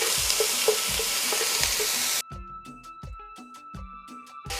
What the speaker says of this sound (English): we're gonna add our onions, garlic, and green scallions. I'm gonna saute that.